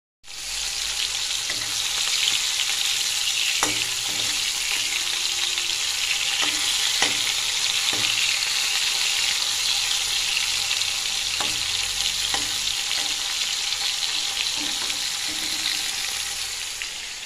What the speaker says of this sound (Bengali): চিংড়িগুলো ভেজে ভেজে রাখবো এখন